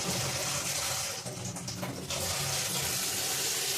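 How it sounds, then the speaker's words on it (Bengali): Water pours steadily from a tap, a loud, continuous close rush with a brief dip in the middle and no speech. "এই যে এইটা পড়ছে, এই যে জল পড়ছে।"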